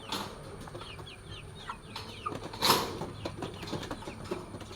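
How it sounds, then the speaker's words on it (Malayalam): Chickens cluck and chirp softly inside a coop on a small summer farm, with scattered short calls, light rustling and a few brief wing flaps at moderate distance. "ഇതാണ് കോഴിക്കുട്ടം."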